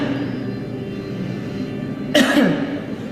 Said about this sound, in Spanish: La tos que todos conocemos.